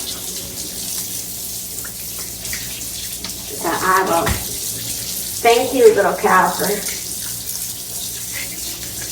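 Tap water runs continuously into a sink while someone talks over it, the splashing shifting as a beef tongue is rinsed.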